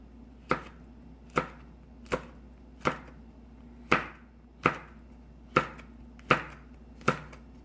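A knife chops chili peppers on a board while vegan nabak kimchi is made, about ten crisp, evenly spaced cuts against quiet background.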